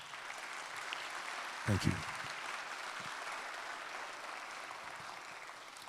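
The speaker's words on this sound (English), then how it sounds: "Would you please give them a round of applause?" Audience applause at a public safety and millage rate cap session, a broad, steady wash of clapping that fills the room for several seconds, with a brief spoken thanks over it.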